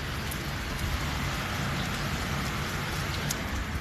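Steady rain pours down in the mountains of Montenegro, a dense, continuous hiss of drops hitting surfaces close by, with no other sounds breaking through.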